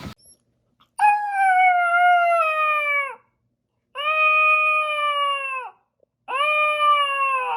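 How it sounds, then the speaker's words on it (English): A Lycan Shepherd puppy howls in three long, drawn-out rising and falling cries separated by short pauses. The howls are close, loud and clear, with no talking over them. "So we've got a little clip of him howling that we shared in a short or a reel."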